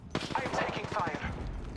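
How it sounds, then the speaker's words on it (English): Rapid bursts of gunfire from an Apex Legends battle royale match on PS5, a dense, steady rattle of repeated shots lasting throughout, loud and close, with game sound layered underneath. "I'm taking fire."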